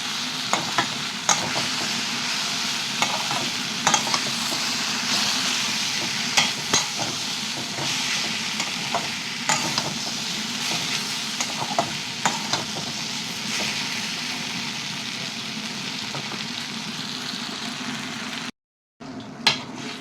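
Tomato puree for rajma cooks in a pan, a steady sizzling bubble with intermittent stirring clicks and scrapes, close and continuous, with a brief silent gap near the end.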